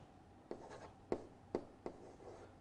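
Chalk or pen strokes on a board during a mathematics lecture, four or five short distinct scratches spaced about half a second apart, quiet and close with no talking.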